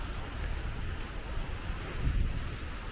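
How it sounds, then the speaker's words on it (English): Steady roaring wind and rain from Hurricane Milton in Orlando buffet the microphone with a rushing, rain-like hiss throughout, swelling slightly toward the end. "every 1 or 2 minutes, we're getting an absolutely huge gust of wind and rain."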